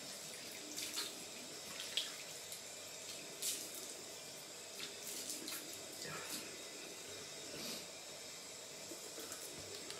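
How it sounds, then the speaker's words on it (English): Water running from a tap while a face is rinsed, a faint, steady hiss with soft splashes and brief louder bursts as hands move through the stream, heard close and alone. "Let me just give my face a rinse."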